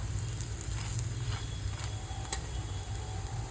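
Oil sizzles quietly and steadily under a jowar flour thalipeeth frying on a griddle. A few faint clicks and pops break the even crackle.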